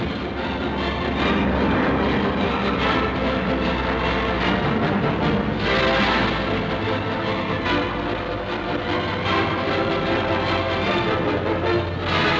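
Aircraft drone over a German naval convoy with light naval forces at sea in 1944, a loud, continuous roaring engine rumble that fills the whole stretch without pause.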